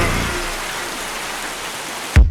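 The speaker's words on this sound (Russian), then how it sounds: "Мы стоим под дождем" Steady rain falling, a dense even hiss that holds for the whole stretch and ends in a short dull thump, with no voices.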